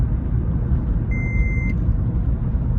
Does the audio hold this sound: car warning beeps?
yes